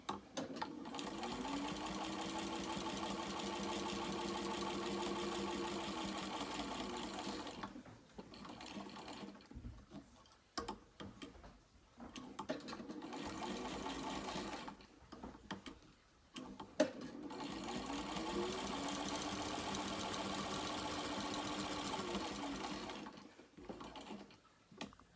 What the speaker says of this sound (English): And so now I've got my flap sewn together,